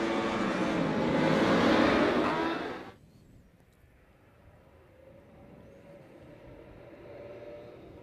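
Racing motorcycles launching at the start of a Hypersport race at the Paul Ricard circuit in Le Castellet, a loud roaring surge of engines that cuts off abruptly, leaving a faint distant drone.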